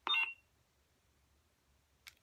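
Two short electronic beeps from a Darth Vader lightsaber soundboard during a font change, one near the start and a fainter one about two seconds later, with quiet between them.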